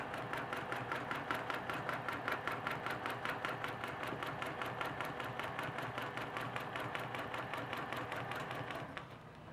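A sewing machine stitching half-inch seams while sewing a quilt row runs in a fast, even needle rhythm, a steady mechanical patter close by that slows and stops near the end, with no talk.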